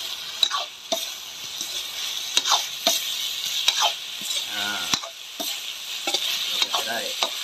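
Spicy eel stir-fried in a pan with holy basil and oyster sauce, a spatula scraping and tossing in irregular strokes over a soft continuous sizzle, close and moderately quiet, with no talking.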